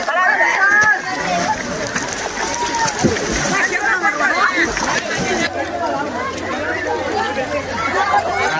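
Water splashing and sloshing in a swimming pool amid people chattering and a busy babble of voices, with continuous close splashes running throughout.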